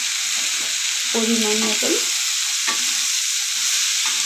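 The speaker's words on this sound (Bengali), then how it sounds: "এবার চাল ডাল ভালো করে আমি ভেজে নেব।" Rice and lentils fry in a pan with turmeric, giving a steady sizzling hiss broken by scraping stirring strokes, with brief speech over it.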